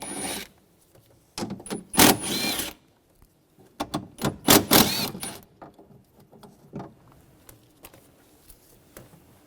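A 10mm socket loosens nuts on the rear door of a 2009-2013 BMW 328i xDrive: bursts of close ratcheting and rattling clicks, separated by short quiet gaps and tapering off into faint handling noise.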